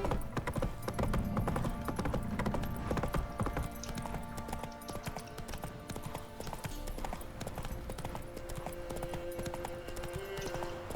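Geralt's horse Roach trotting in The Witcher 3, hooves clip-clopping in a steady, close rhythm for the whole stretch, with tonal game music underneath.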